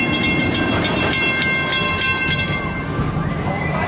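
Serengeti Express amusement park train running, a steady loud rumble with rhythmic clicking of the wagons and a faint whistle tone, under crowd noise and some talk.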